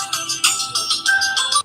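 A phone ringtone plays for an incoming call, a bright repeating electronic melody in quick pulsing notes, close and clear, stopping abruptly after under two seconds.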